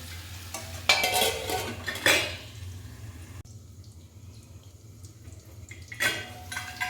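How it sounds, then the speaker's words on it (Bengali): A spoon scrapes and clatters against a pot while green mango pickle with jaggery is stirred, a few bursts of close stirring and clinks separated by quieter pauses, with no talking. "এখানে ঢাকনা খুলে আমি আমটা কিন্তু নাড়াচাড়া করে নিচ্ছি"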